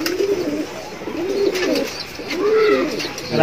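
Pigeons in a loft give several rolling, rising-and-falling coos close to the microphone, with scattered rustling and a brief voice near the end.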